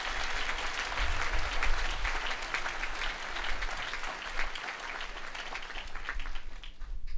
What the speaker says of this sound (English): give her a round of applause for putting up with me